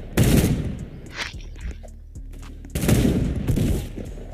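Gunfire in the Roblox game Da Hood: loud, dense bursts of rapid shots with booming impacts, a short lull with scattered pops, then another heavy volley close up.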